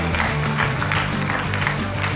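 Studio audience applause on a Georgian comedy game show, a dense steady wash of clapping filling the whole stretch at even loudness, with some voices mixed in.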